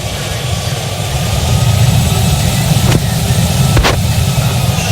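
Low, steady aircraft engine drone while taxiing in Roblox near Punta Cana, a continuous rumble with two brief clicks partway through and no talk over it.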